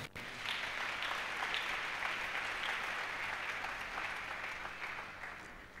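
A church congregation claps in sustained, fairly distant applause that holds steady and fades slightly toward the end, with no speech over it.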